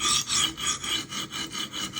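A Spyderco Magnamax knife blade is drawn across a coarse sharpening stone in rhythmic, close rasping strokes, about eight even passes in two seconds with no voices.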